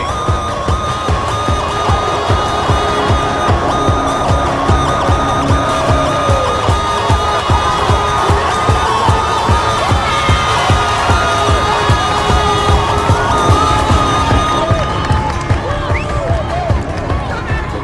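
A crowd of around two hundred extras packed around a fight cage on a film set yells and cheers steadily, a loud sustained roar with rhythmic thumps and whoops throughout, speech mixed in.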